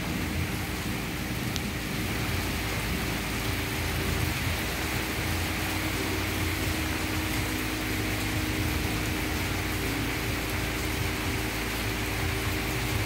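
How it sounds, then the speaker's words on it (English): Steady rain pouring in the Northeast as a constant broadband hiss for the whole stretch, with faint low rumbles that may be distant thunder beneath it; no one talks. "another rainy day in the Northeast."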